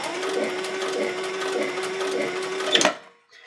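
A sewing machine runs steadily, stitching through thick layered suede and leather for a padded pistol case, a continuous close whirring hum that stops abruptly near the end.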